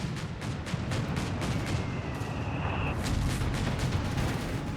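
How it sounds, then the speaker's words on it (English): Incoming mortar rounds in Company of Heroes 3 land as a continuous rumble of distant thuds and booms, with a brief whistle partway through, all layered over a dense battle din. "Mortar rounds incoming!"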